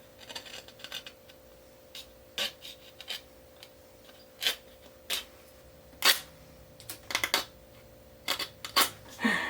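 Trimming cured UV epoxy and sailcloth on a sailboat compass: scattered short scraping and snipping strokes, some single and some in quick pairs, close and fairly quiet against a faint background hum.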